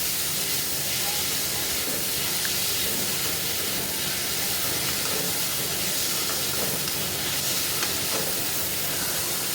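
Chopped tomatoes sautéing in a pan for home-style chicken gravy, giving a constant loud sizzling hiss with faint crackles scattered through it and no pauses.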